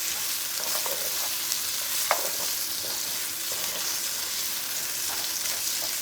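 Chicken and vegetables stir-frying in a hot wok, a steady broad sizzle throughout with faint scraping and stirring taps, close and alone without talk.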